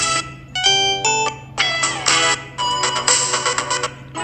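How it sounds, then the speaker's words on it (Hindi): Samsung Galaxy M04 phone ringtone plays loudly and alone, a bright electronic melody of short repeated tonal bursts that becomes denser and more sustained toward the end. "आप रिंगटोन लगाएंगे, जो भी आपको रिंगटोन लगानी है इस तरीके से"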